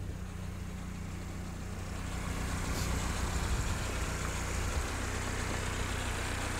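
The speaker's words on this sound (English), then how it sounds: "Let's come to a stop and then just see how the engine idles from driving." A 77-year-old Willys jeep engine idles steadily right after a drive, giving a low, even rumble with no sputtering, close by and with no talk.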